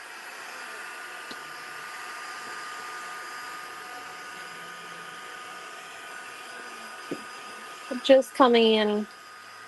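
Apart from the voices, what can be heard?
dryer drying a mixed media art piece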